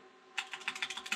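Keystrokes on a computer keyboard, about a dozen quick clicks in an uneven burst, close and fairly quiet, with a steady low hum from nearby ASIC mining rigs underneath.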